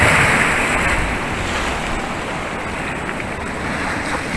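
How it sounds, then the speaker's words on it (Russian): Calm ocean waves wash softly onto Roque de las Bodegas beach on Tenerife, a steady, gentle surf hiss with light wind buffeting the microphone. "Сегодня такой спокойный океан. Здесь немножко вот заливается."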